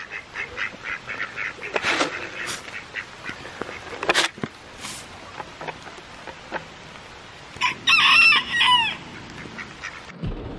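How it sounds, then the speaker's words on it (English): Chickens and ducks call outdoors in rain on a farm, with scattered clucks and quacks throughout and a louder burst of loud squawking near the end, heard against steady soft rainfall. "The chickens and the ducks don't mind this weather."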